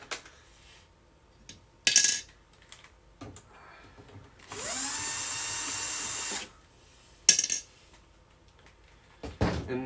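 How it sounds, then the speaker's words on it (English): Screws are backed out of the bottom of a Sony HCD-HP7 five-disc CD changer deck: sharp clicks and clatter, then a steady two-second whirr of a powered driver, followed by more knocks. "I just took out these couple screws on the bottom there"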